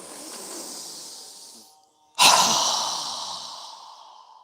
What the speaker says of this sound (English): exhale through our mouth as we lower our arms and hands down with a strong exhale